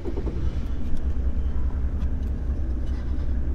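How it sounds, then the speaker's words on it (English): A Mercedes W210 car engine starts and settles into an idle in a garage, giving a steady low rumble at close range, with no talk. "So we're gonna start the car"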